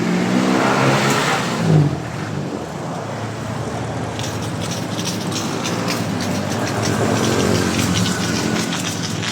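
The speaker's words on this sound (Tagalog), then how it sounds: "So, ayan po ang kanyang output. Napakalakas ng buga." A 4-in-1 coin-operated automatic carwash vendo machine blasts a strong, steady spray of water at close range, a loud continuous hiss with mechanical clatter and no talk.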